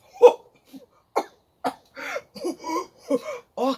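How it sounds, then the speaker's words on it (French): A narrator acts out Father Christmas choking, voicing a series of short, sharp coughs and hiccup-like gasps. The bursts come close together and end in strained vocal sounds. "Il tousse."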